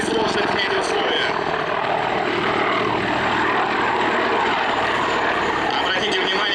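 Military attack helicopter flying at the MAKS-2021 air show, with a steady loud rotor and engine roar holding throughout, a busy outdoor crowd murmur mixed beneath it and a voice speaking over the noise.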